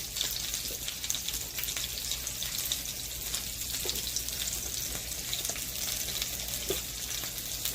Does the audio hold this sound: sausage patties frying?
yes